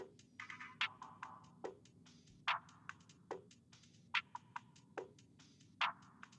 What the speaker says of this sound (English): I added in a percussion loop from that same trap pack.